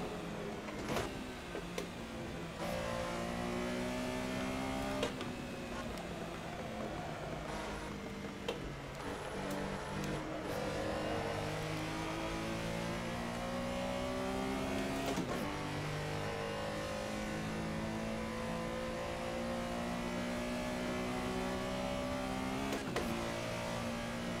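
A race car engine at Silverstone in a racing video game revs and drops through the gears, with rising and falling engine whine in repeated sweeps and a continuous drone throughout.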